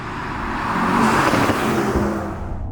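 A Mercedes-AMG GT 55 coupe's cross-plane V8 drones steadily and loudly, with a deep rumbling exhaust note that swells slightly in the middle.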